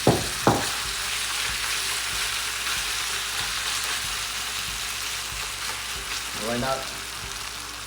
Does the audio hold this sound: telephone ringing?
no